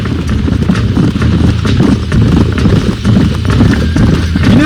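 Horse hooves clip-clop steadily in Red Dead Redemption, a close, continuous galloping rhythm of a ridden horse over open ground, loud and without speech.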